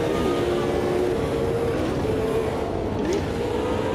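A race car with a huge engine, little weight, big sticky rear tyres and go-kart front tyres, driven in Automobilista 2, drones steadily and loudly throughout with a constant engine tone and no talk.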